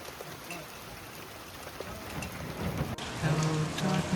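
Heavy rain pours down on a forest camp, a dense, steady roar of drops drumming on surfaces that grows louder toward the end, with a low rumble of thunder underneath.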